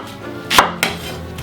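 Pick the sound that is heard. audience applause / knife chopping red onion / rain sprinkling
knife chopping red onion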